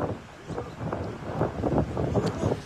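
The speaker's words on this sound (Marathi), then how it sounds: "रात्रीपासूनच पडणाऱ्या पावसानं सकाळी विश्रांती घेतली असली तरी वादळी वाऱ्याचा वेग कायम आहे." Strong gusty wind from Cyclone Biparjoy sweeps across a beach at Bhuigaon, Vasai, a steady loud rushing roar with buffeting surges against the microphone.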